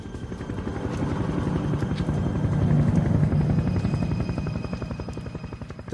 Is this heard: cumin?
no